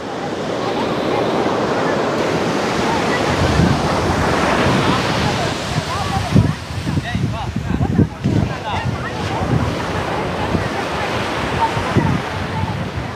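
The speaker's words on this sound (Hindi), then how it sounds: "पानी कैसे कितना आते रहता है एनी टाइम" Sea waves wash steadily onto the shore in a continuous loud roar, with wind buffeting the microphone and someone speaking over the surf.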